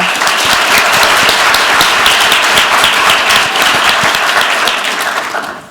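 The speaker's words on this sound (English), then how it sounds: "Let's give another round of applause for Eduardo Carpenetto." Loud, sustained applause from a large audience at the IDEA Con 2023 conference opening. It rolls steadily for several seconds, then begins to taper off at the end.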